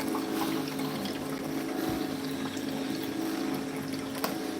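Fresh juice containing mint and coriander pours from a juicer into a jug as a steady, soft liquid trickle over a low hum, continuous for a few seconds with no talking.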